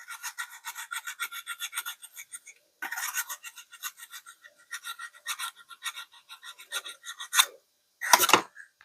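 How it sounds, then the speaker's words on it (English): A small handheld micro power sander bought off Kickstarter, used at a craft night while building a one-of-a-kind plush art doll, gives a close, steady buzzing rasp in rapid pulsing bursts, pausing briefly and ending with a couple of sharper scrapes. "There's a micro power sander."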